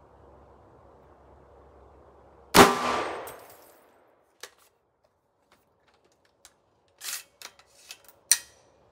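An 8.6 Blackout rifle fires a Barnes 210-grain TTSX supersonic load into clear ballistic gel. One sharp report rings out and decays over about a second, followed later by scattered faint clicks and knocks.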